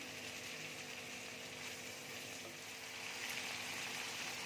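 Steady, soft sizzle of cinnamon, cloves, bay leaf and almonds frying in oil in a pan, continuous and even throughout with no voices, the hiss swelling slightly toward the end.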